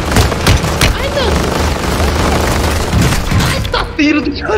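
Rapid bursts of Call of Duty gunfire, loud and close, with booming shots layered over game sound effects and a voice talking.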